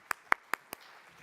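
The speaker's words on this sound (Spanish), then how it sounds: "Un aplauso para Teresa, que ya viene con él." Four slow, evenly spaced handclaps at a national neuromuscular disease congress, faint and distinct against a quiet room, stopping after less than a second with only low background hush remaining.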